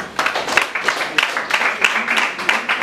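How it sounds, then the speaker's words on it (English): Short round of applause at a practical IT training session, with scattered claps forming an uneven, moderately loud patter over roughly three seconds. "Let's give him a round of applause."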